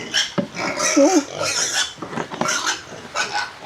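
Pigs on a small flooded farm grunt and squeal close by in a busy, overlapping series at feeding time, with rustling and clatter around them.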